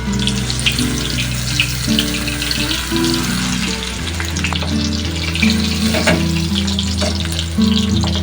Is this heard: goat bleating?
no